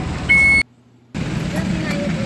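Street traffic outside a veterinary clinic: a steady broadband wash of passing vehicles with a brief steady reversing-type beep, then a short near-silent dropout before the road noise returns at the same level.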